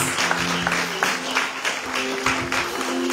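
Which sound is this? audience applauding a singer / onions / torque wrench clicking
audience applauding a singer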